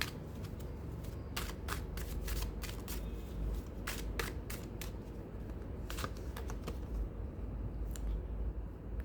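Tarot cards are shuffled by hand close up, producing a rapid, continuous run of crisp riffling flicks and slaps over a low room rumble, with no speech.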